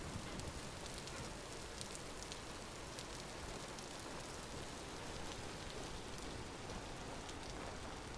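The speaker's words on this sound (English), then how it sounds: "the rain and the lightning, also very thematic" Steady, dense rain falling in a farming video game's ambience, a continuous soft hiss with scattered droplet ticks throughout, no voices.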